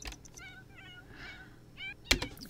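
A cat in The Sims 4 gives a few short harmonic meows, close and clear over a quiet game background, followed by a sharp click.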